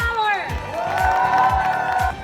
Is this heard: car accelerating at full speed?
no